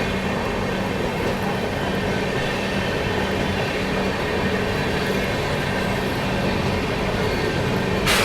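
Bilaspur Rajdhani Express rolling through Hazrat Nizamuddin railway station, a continuous loud rumble of wheels and carriages with steady low hum and hiss, close and unbroken, with a brief rise near the end.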